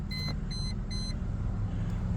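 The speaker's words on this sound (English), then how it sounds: "Wait, she's done beeping real quick." A van's warning chime sounds after the key is turned in the ignition, giving three short, faint beeps in quick succession over a low engine hum.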